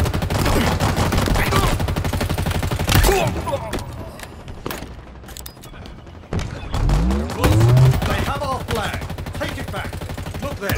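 Gunfire in a Halo Infinite Big Team Battle multiplayer match, rapid bursts of shots rattling throughout amid explosions and game sound effects, with in-game voice callouts over the action.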